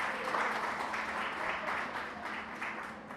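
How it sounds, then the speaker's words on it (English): Applause from an audience at the official opening of a youth community center, a moderate, fairly distant wash of clapping that stays steady and gradually thins toward the end. "Another round of applause, please."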